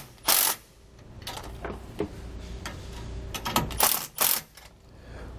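A ratchet snugs down bolts on a Roadmaster Reflex steering stabilizer bracket on a 2020 Thor Miramar, giving a few sharp clicks and metallic clinks spaced irregularly, close and fairly quiet, with no talking.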